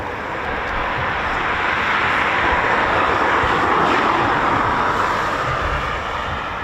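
A Eurofighter Typhoon FGR4 jet flies overhead, its engine roar a steady, loud broadband rush that holds at full strength throughout, with no talk.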